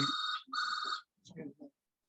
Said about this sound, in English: my wife's phone.